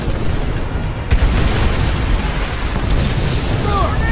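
Rocket explosions in a Call of Duty war game, dense rumbling blasts rolling continuously with a sharp burst near the start, loud and close amid battlefield noise.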